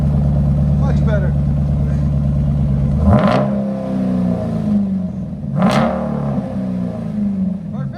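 A 2018 Dodge Durango SRT's 6.4-liter engine, resonators removed and fitted with Vibrant parts, idles with a deep loud burble, then two sharp revs surge and fall back, close and booming.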